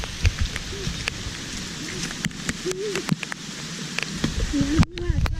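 Steady rain patters down across the whole stretch, with people talking intermittently over the wash of falling water.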